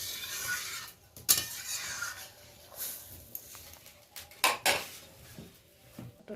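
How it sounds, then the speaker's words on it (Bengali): A spoon stirs boiled lentils for sour dal in a metal pot, with soft scraping strokes and a few sharper clanks against the rim, close and alone without any voices. "এই দেখুন আমি সিদ্ধ ডালটা ভালো করে একবার নেড়ে নিলাম।"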